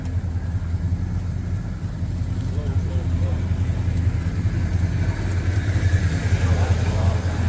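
An old vehicle engine, a 1977 Trail Duster or a '71 Jeep, runs at a steady low rumble close by, with people talking over it.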